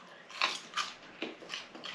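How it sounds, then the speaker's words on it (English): Crisp, crunchy bites into salt and Chinese pepper coated belly pork, several separate crunches spaced through the clip, close and fairly loud with no talk. "I'll try some of this belly pork. It's lovely and crispy."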